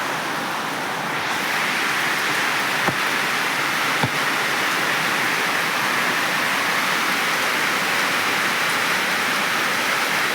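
Steady, heavy rain hisses evenly throughout, dense and continuous, with a couple of faint knocks and no voices.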